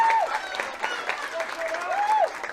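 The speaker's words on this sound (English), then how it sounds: "she hasn't even got over near the crowd here, and they're applauding" A crowd at the Waterford vs Westmeath All-Ireland U-18 Camogie C final keeps up steady, distant applause and clapping beneath a commentator talking throughout, with a whistle-like tone rising and falling.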